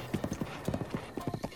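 Horse hooves in The Legend of Zelda: Breath of the Wild, a brisk rhythmic clip-clop of quick evenly spaced hoofbeats, close and clear, with a faint whinny.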